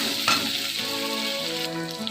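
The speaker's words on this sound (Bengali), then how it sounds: "এবার এর মধ্যে 1 চামচ আদা রসুনের পেস্ট দিয়ে দেব, দিয়ে একটু নাড়াচাড়া করে নেব আবারও।" Ginger garlic paste sizzles and fries in a hot pan while being stirred, a loud continuous crackle with a sharp scrape near the start and soft stirring movements throughout.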